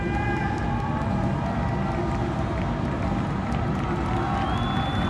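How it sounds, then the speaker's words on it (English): A dense stadium crowd cheers continuously and loudly for athletes running the men's 1500m T37 para athletics final at the 2015 ASEAN Para Games, a steady wall of roaring voices. "Crowd doing their best to support the athletes."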